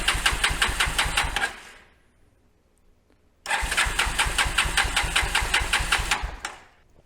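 A cheap used four-wheeler ATV engine is cranked twice in quick rhythmic bursts, each a loud close chugging of a couple of seconds that fails to catch, with a short quiet gap between them and no talking.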